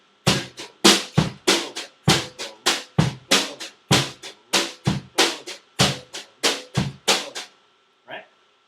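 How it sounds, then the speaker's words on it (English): A steady drum beat with an accent on every other note, strong and weak hits alternating in an even rhythm for several seconds, close and clear, ending with one last soft hit. "So that's what accent every two notes sounds like."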